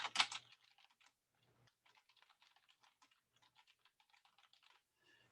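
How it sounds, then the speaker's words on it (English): Soft, close computer keyboard typing: a sharper click first, then a light, irregular patter of quiet keystrokes running for several seconds in a silent room. "type in a title here."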